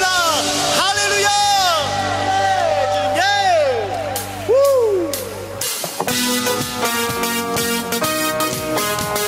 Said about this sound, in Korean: 우리 큰 박수로 주님 앞에 영광 올려드립니다